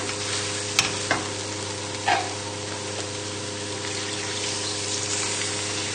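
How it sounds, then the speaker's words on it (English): Chicken stock and milk are poured into a chicken pie filling in a pan and stirred, making a steady close hiss broken by a few sharp clinks and scrapes of the spoon. "we can now just add in the stock."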